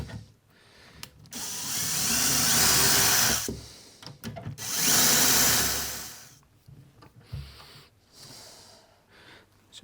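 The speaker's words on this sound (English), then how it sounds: "Back to our hinge drill again." A hinge drill whirs in two sustained bursts separated by a short pause while fitting hinges on a wooden blanket box, with clicks and handling noise between them; fairly close and loud.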